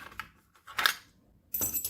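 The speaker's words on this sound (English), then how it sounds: "Okay, so here are keys." Metal keys clinking and jingling as they are handled during a lockpicking unboxing, with three short bright bursts of jangling separated by quiet pauses, close and moderately loud.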